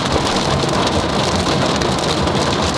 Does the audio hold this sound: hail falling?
yes